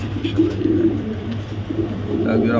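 Racing pigeons coo in low, repeated throaty rolls close by, over a steady background hum.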